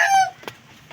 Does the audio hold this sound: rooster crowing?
yes